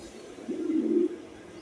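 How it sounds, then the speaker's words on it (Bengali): A single soft pigeon coo from one of four female pigeons, a short low murmuring call close by against a quiet background. "খুবই সুন্দর কবুতর, 4টাই মাদি"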